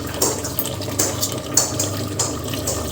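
Water pours into a pressure cooker over fried mutton. It makes a continuous, fairly loud rushing splash with surging pulses, and there is no talking.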